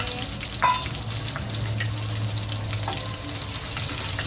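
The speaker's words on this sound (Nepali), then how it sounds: "साथीहरू, हाम्रो प्याज पनि यतिको फ्राई भइसक्यो।" Two chopped medium onions fry in a pan with a steady, close sizzle, joined by a few faint clinks and stirring sounds and a low hum underneath.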